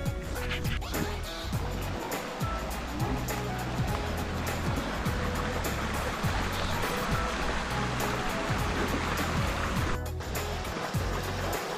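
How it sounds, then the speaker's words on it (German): The Deilbach brook in the Windrather Tal near Velbert flows in a continuous, full rushing wash that fills the whole stretch, close by and fairly loud, with no talk over it. "Naturgeräusche am Deilbach."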